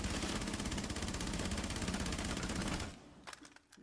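A P90 submachine gun fired from the hip in Rainbow Six Siege unleashes a loud, rapid continuous burst for about three seconds, then cuts off, leaving a few scattered faint clicks and echoes.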